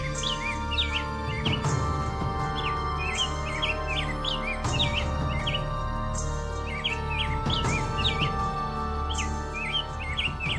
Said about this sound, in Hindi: फिर भी पक्षी उन पर चहचहा रहे हैं।